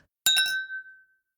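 Glass clinks sharply two or three times in quick succession, then leaves a bright ringing tone that fades out over about a second.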